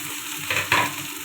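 Okra hits hot mustard-spiced oil with onion already in the pan, giving a quiet sizzle and a couple of brief stirring scrapes over a short stretch.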